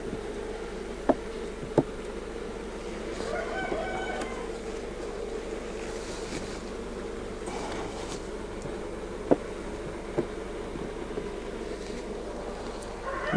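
Honey bees hum steadily around an open hive during a late-summer inspection, a continuous mid-level drone with faint sharper buzzes of individual bees passing close, plus a few brief clicks of handling.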